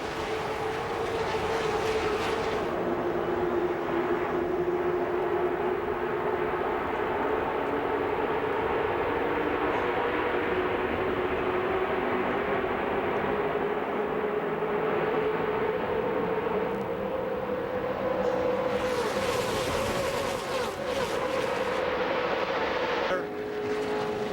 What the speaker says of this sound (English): Let's go racing at a real high speed